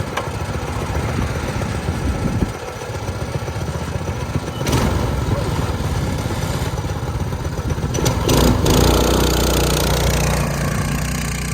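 Small go-kart engine of a Streaker Dirt Dog running steadily at close range, a continuous rough, buzzing idle with a slight rise in intensity near the end and no talking.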